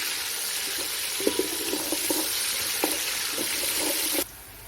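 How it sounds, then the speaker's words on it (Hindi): Onions sizzle steadily in a pan for a Punjabi chicken pulao, with a few soft scrapes and taps of stirring over the hiss, which cuts off abruptly near the end. "अब हम इसमें प्याज ऐड करेंगे। इन्हें हम अच्छी तरह से मिक्स करेंगे।"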